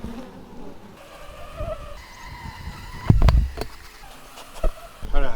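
Honey bees buzz around an opened beehive during an inspection, a wavering drone running under scattered thumps and knocks from the boxes, with a voice talking at times.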